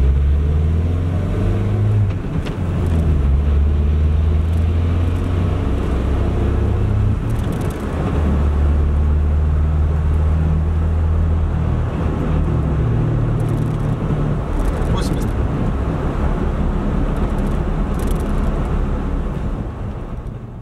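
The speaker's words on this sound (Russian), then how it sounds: "Движение при 60. Разгон до 80." A UAZ Hunter drives and accelerates from about 60 to 80 km/h, its engine a continuous low drone with road and wind noise inside the cabin, rising gradually and steady throughout with no talking.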